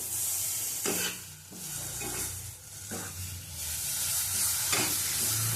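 Dry red chili frying in oil for a mashed green banana dish hisses and sizzles steadily up close, broken by several scraping stirs of a spoon in the pan.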